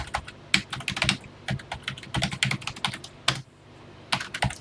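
A BASIC program is typed on a TI home computer keyboard, close, clacky keystrokes in irregular quick runs with short gaps and a faint low hum beneath.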